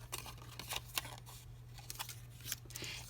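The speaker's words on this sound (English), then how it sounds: "I am just going to take my scissors and I'm going to snip off the corner pieces" Quiet, quick snipping of scissors cutting the corners off a paper card, a series of soft irregular cuts over a faint steady hum.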